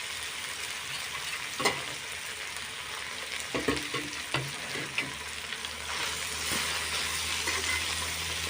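Pork frying with roselle (tengamora) leaves in a pan makes a soft, even sizzle, with a few sharp clinks and knocks of a spoon against the pan.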